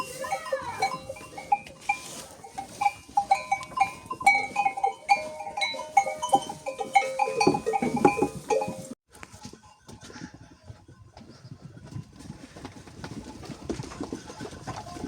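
Goats bleat repeatedly over a busy outdoor village scene, with scattered birdsong and rustling, the calls fading later into quieter shuffling and background noise.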